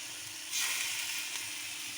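Venison pieces sizzle as they are basted with butter in a pan, a close, steady hiss that swells suddenly and stays loud with no talk.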